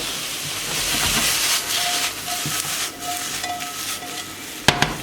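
Chanterelle mushrooms sauté in a hot pan with a steady broadband hiss and sizzle, and a sharp clatter near the end.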